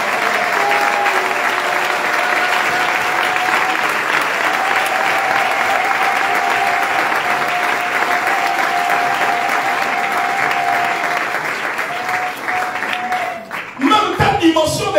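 Church congregation applauding and cheering at a service, a loud, dense, sustained roar of clapping with a steady sung or held tone over it, before voices rise near the end.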